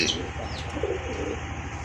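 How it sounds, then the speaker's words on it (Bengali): Pigeons, short-beaked birds kept for sale, coo softly in a few low murmuring phrases against a steady background hum. "এই যে দেখেন কবুতর দুইটা কিন্তু একেবারে শর্ট ঠোঁটের কবুতর"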